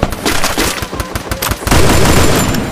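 Rapid bursts of gunfire from a Free Fire firefight on the military island map, with sharp close shots tumbling into dense volleys and a heavier continuous barrage near the end.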